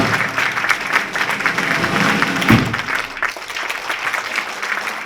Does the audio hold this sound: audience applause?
yes